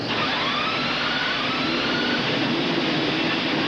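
Indy cars at the 1987 Long Beach CART season opener, many engines roaring together in a dense, continuous wall of sound echoing off nearby buildings, loud and unbroken.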